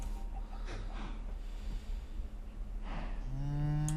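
A cow in a survival video game moos, a loud, close, low drawn-out call near the end, following soft snorting and breathy sounds.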